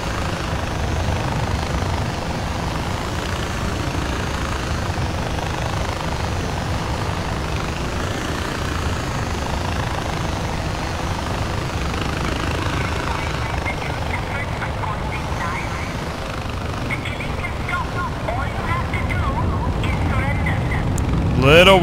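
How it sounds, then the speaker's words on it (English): A helicopter in the Far Cry 4 game, flown near a river, thrums with a constant, close rotor and engine drone at steady loudness throughout, swelling slightly at the very end. "Just a random chopper down here by the river."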